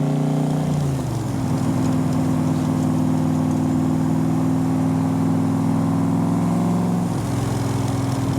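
A Backdraft Cobra replica with a Roush 427 engine drives on a highway. Its deep engine note drones steadily and loudly throughout, and the pitch shifts near the start and again near the end as the car changes gear.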